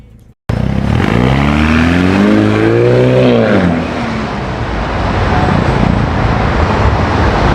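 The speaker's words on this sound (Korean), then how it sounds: "기존에 아주 약하던 배기음이 이렇게 강력하고 아주 묵직하게 완벽하게 세팅됐습니다" A Ford Bronco with a tuned exhaust pulls away loudly. A deep, heavy exhaust note rises through a rev sweep, then drops into a sustained roar as it drives off, close to the microphone.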